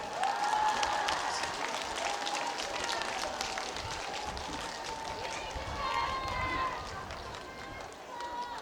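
At an outdoor trot concert marking the 100th anniversary of Gampo port's opening, a crowd claps and applauds steadily for several seconds, with a voice talking over it.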